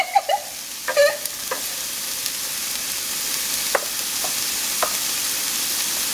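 Onion and garlic frying in a pan over medium-low heat, a steady hiss of sizzling with a few sharp clicks and scrapes of stirring early on, close and alone without talk.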